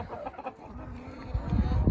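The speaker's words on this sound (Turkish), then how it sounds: "Yavru horozumuz" A young rooster gives soft, low clucks and a short throaty call, close by, with some rustling noise toward the end.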